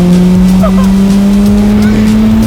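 A loud, tuned, rebuilt Mazda RX-7 rotary engine revs hard and climbs steadily in pitch as it accelerates in second gear, droning close by throughout.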